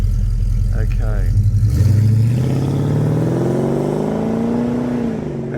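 A 1977 Torana A9X hatchback replica drives past with a loud rumbling engine that rises in pitch as it pulls away and fades slightly at the end, while someone talks over it.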